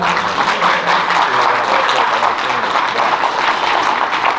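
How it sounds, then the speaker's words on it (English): A crowd applauds steadily, a dense wash of clapping that carries through the whole stretch without a break. "Give yourself a round of applause for still being here so very much."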